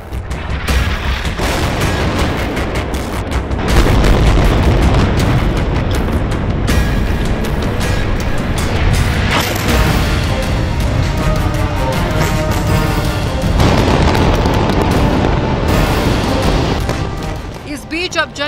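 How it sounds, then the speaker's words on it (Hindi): Bombardment explosions and gunfire from the Israel-Palestine war, heavy continuous booms and blasts rumbling loudly throughout without a break, with voices faintly present in the mix. "फिलिस्तीन की ओर से दागे गए रॉकेट के जवाब में इसराइल की ओर से भी ताबड़तोड़ बमबारी की जा रही है।"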